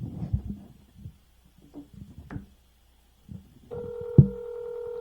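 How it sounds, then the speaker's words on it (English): A telephone places a call: a few faint tones and clicks, then a clear ringback tone starts near the end, close and moderately loud against an otherwise quiet room. "Let's call St. Rita."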